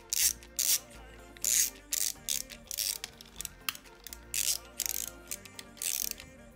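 Bolts on a CRZ 250 racing camshaft being tightened with a ratchet: bursts of rapid clicking ratchet strokes repeat in an uneven rhythm, close and fairly loud, with no talk over them.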